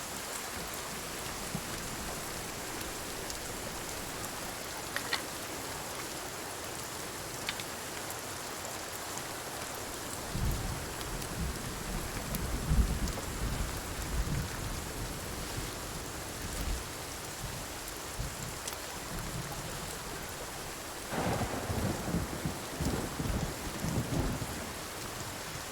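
Steady rain and gusting wind in the Sons of the Forest game, with low rumbling thunder rolling in around the middle and again near the end; no talking.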